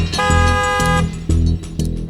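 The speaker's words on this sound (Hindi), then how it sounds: "मेम साहब, ड्राइवर हॉर्न दे रहा है" A car horn honks three times close by: one long blast followed by two shorter toots, each a bright, buzzy tone.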